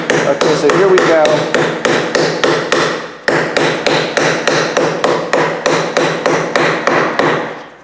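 Hammer or mallet tapping a wooden dovetail joint together, a steady series of sharp close knocks about four per second with a brief pause partway, loud and alone.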